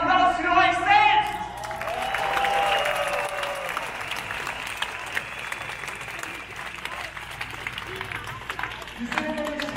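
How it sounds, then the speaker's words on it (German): A crowd at a Querdenken rally applauds, with a sustained wash of clapping and some cheering that follows a raised voice at the start and runs steadily to the end, fairly distant and broad. "Einen Applaus für euch selbst!"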